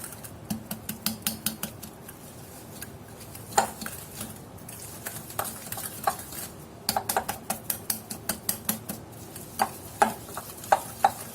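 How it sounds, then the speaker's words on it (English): A whisk beating oil and sugar in a bowl, heard as a fast, even run of close clinking taps against the bowl, with a short pause partway through. "And now we are going to whisk this."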